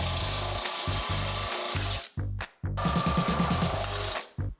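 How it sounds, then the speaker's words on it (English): A drill grinds through spot welds to separate body panels on a crashed 2010 Honda Accord, running in loud, steady buzzing bursts with brief pauses where the bit stops, close up and with no talk. "The little divot gets drilled, the bit goes in, and the panel pops apart."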